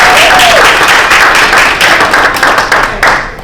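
Loud, close audience applause at a reparations conference, steady dense clapping from a crowd that continues throughout and tapers slightly at the end.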